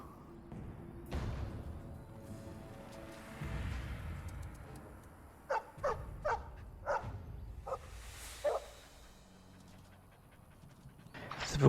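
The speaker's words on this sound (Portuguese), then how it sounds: "Você viu o cachorro que eu ajudei antes?" A dog pants and huffs in the fantasy video game Dragon Age: Origins, quiet breathy sounds with a short run of five sharp, evenly spaced clicks or taps in the middle, all faint against game ambience.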